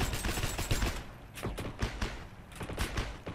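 Weapon fire in the World War II shooter Heroes and Generals, fast repeated loud shots in bursts with short pauses between them, close and punchy.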